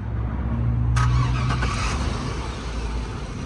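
A car engine, jump-started with a portable starter box at an intersection, cranks briefly and catches, then settles into a steady idle under loud background traffic noise.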